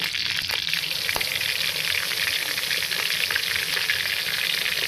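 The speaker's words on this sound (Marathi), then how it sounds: "आणि हा मसाला 2 मिनिटं छानपैकी फ्राय करून घ्यायचा आहे" Coconut, ginger and garlic paste with a pinch of asafoetida sizzles in hot oil in a kadhai, a steady close crackling fry with faint stirring taps.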